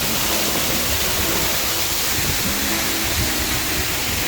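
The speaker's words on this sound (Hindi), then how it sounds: "ऊंचाई से पानी गिरता है और नहाने के लिए बहुत अच्छा वाटरफॉल है" Waterfall near Gangtok, water dropping from a height into a bathing pool, makes a steady, loud broadband rush that holds without a break and carries no voices.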